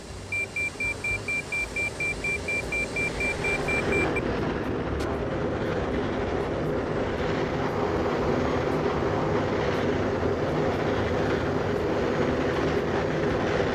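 An ERJ-145 jet in a flight simulator lands with its thrust reversers deployed, a loud, broad roar that builds and holds steady. A repeating cockpit beep chimes over the opening seconds, then stops.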